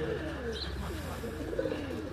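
Sialkoti Bateri breed pigeons coo softly on a rooftop in Sialkot, repeated low throaty coos rolling over a steady ambient background.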